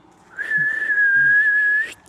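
A single sustained, clear whistle to call Braque Saint-Germain dogs, held on one steady pitch for about a second and a half, loud and close.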